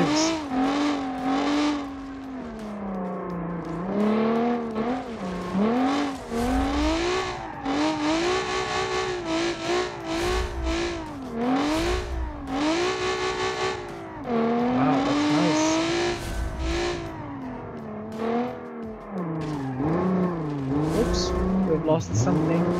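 A 1985 rally car in the BeamNG.Drive video game accelerates through long gears, its engine note rising and falling in steady sweeps with gear shifts and occasional tire noise, loud and continuous.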